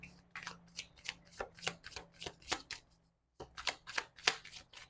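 Tarot cards are shuffled close up in quick riffling bursts, with a short pause partway through before the shuffling resumes, and no talking.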